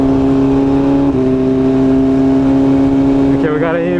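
A sport motorcycle engine holds a loud, close, steady high-rev drone during a street run against a Ferrari, then sharply climbs in pitch as it accelerates hard near the end, with a voice partly over it.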